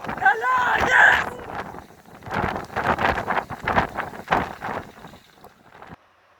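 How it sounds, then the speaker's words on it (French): Gusty wind from an August thunderstorm buffets the microphone in bursts over roughly six seconds, loud and close, while people shout and talk excitedly over it. "malgré les rafales de vent"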